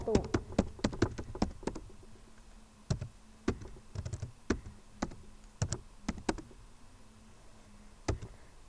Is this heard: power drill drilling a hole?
no